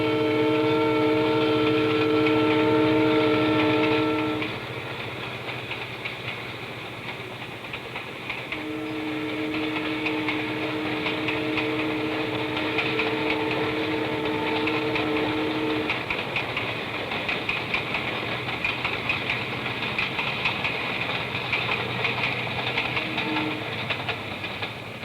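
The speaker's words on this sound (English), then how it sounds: "an immense volume of freight moves into and through the Piedmont region by rail" Freight train rolling along a rail line, a sustained rumble under steady tonal horn-like drones that cut out and return, moderately distant and continuous with no talking.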